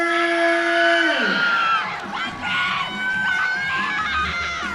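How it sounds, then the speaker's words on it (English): At a live MMA fight league event, a crowd screams and cheers loudly as a women's bout is announced, with high shrieks and whoops rising and falling in a dense, sustained roar; a tonal sound fades at the start. "Damn, this crowd is going ham for both these women."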